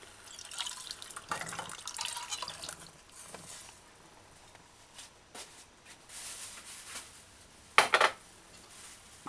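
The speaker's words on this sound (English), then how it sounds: "Then add the 1 cup water." A cup of water is poured into a pot of mild chili after the tomato sauce, with soft splashing and clinks of the pot and utensils, quiet and close, ending in a sharper splash near the end.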